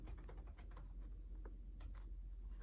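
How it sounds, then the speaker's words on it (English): Someone types on a computer keyboard. Quiet, irregular keystroke clicks run steadily throughout, close to the microphone, with no talking. "I'm gonna just type it in, it's quicker this way."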